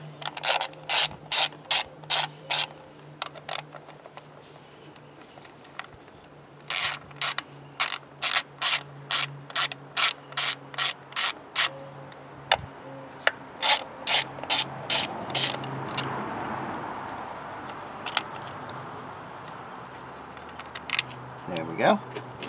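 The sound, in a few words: ratchet loosening spark plugs on a 2010 Ford Fusion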